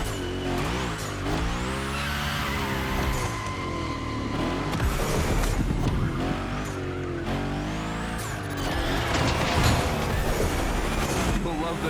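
Tires screech and slide as a car drifts through Gymkhana training in The Crew Motorfest, with a steady engine roar, long squealing skids and rising and falling tones running loud and continuous throughout, with game music underneath.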